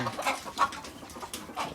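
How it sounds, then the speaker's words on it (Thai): Bantam chickens cluck in short, scattered bursts nearby, a few soft calls overlapping in quick succession. "เสียงดังครับถ้าไอพวกไก่แจ้มันขึ้นไปนะไอพวกนี้จะตกใจนะครับ"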